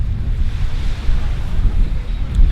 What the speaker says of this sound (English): So this beach I'm at here today is in San Antonio, Ibiza